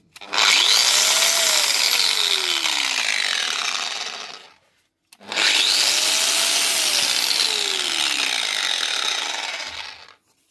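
A Bosch GWS9-115S 4.5-inch angle grinder with worn gears runs in two bursts of about four seconds each, spinning up with a rising whine, then holding a loud, harsh gear-grinding drone before winding down, separated by a short silence.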